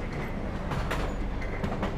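A subway train runs along the tracks with a dense, steady roar and faint rhythmic clacking. The sound stays loud and continuous throughout, with no voices.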